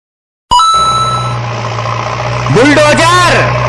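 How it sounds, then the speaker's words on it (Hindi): A cartoon-style JCB excavator engine effect starts abruptly and settles into a loud, steady idling rumble, with a singsong voice rising over it near the end. "जेसीबी,"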